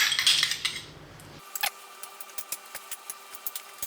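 Potato egg salad with mayo being mixed in a bowl, with a soft wet rustle first and then a run of light, regular utensil taps and scrapes against the bowl, close and moderately loud with no talking.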